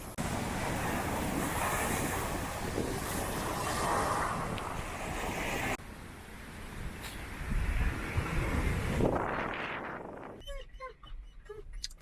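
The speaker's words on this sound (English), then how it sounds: "Got pretty windy out there." Strong gusting wind buffeting the microphone beside a lake in Northern Michigan, loud roaring broadband rush with surf-like swells, dropping abruptly before a brief louder gust, with a short stretch of talk at the end.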